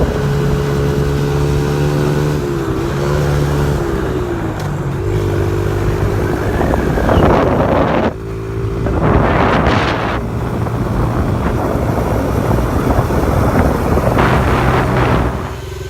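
Strong wind buffets the microphone, producing a loud, continuous rumbling roar with gusty surges. A steady tonal hum runs underneath throughout.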